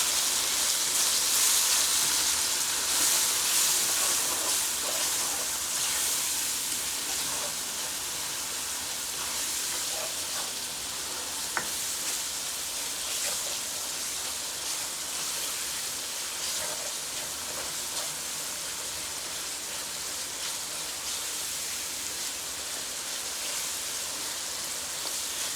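Masala with salt and red chili frying in a pan for mixed dal, a steady hissing sizzle heard alone and close throughout, loudest at the start then settling to an even level.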